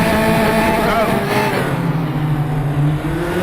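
A Tatuus F4 race car idles and builds revs in first gear on the brakes at a standing start at Moscow Raceway in RaceRoom Racing Experience, a loud steady engine drone with rising pitch while someone talks over it.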